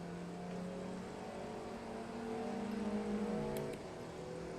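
Steady engine drone of a car lapping Brands Hatch in Assetto Corsa, a modded car whose engine is taking damage. The tone rises briefly as it accelerates, then drops back to a level hum, with no talk.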